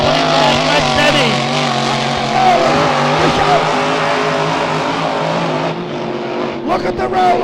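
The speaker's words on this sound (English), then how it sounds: "That boat sounds absolutely spectacular from Craig Storner there as he fires up the front straight away for the final time" A racing powerboat at the E C Griffith Cup Anzac Day race roars loudly and continuously as it powers through a turn onto the front straight, a dense droning engine note with a commentator talking over it.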